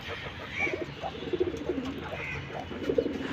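Soft, low cooing of pigeons, several short throaty calls scattered over a quiet, slightly noisy background.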